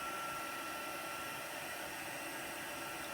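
A heat tool blows steadily to dry chalk paint on a craft tray, a constant breathy whoosh with no change throughout, moderately loud and alone.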